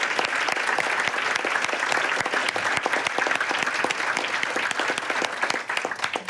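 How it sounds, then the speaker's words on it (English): Steady, enthusiastic applause from an audience, continuous clapping throughout at even loudness. "I just want to say a huge round of applause and thanks to both of you"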